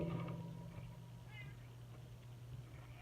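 A cat meows a few times nearby over a steady low hum, with a brief voice near the start.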